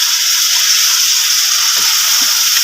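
Spice masala for a masoor lentil dish roasting in a pan, giving a steady, close, bright sizzle and hiss that holds unbroken throughout, with a few faint soft clinks beneath.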